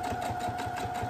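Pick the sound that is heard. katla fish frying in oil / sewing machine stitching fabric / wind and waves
sewing machine stitching fabric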